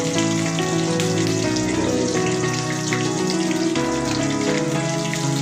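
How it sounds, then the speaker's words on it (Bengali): Sliced onions fry in hot oil in a pan for a dhaba-style chicken curry. A steady, even sizzle with a faint crackle runs throughout, up close and uninterrupted by voices. "পেঁয়াজটা এখন লাল লাল করে ভাজবো আমরা"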